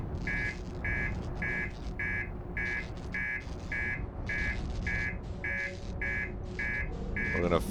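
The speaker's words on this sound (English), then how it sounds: "How can I turn off the alarm?" A video game alarm sounds as a steady series of about thirteen evenly spaced electronic beeps, repeating rhythmically over a busy background of game noise.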